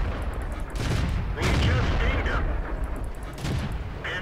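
Tank cannon blasts and battle explosions from World of Tanks, a stock tier 5 tank in a tier 7 match, come as several heavy booming shots with rumbling tails, loud and close, while someone talks over the gunfire.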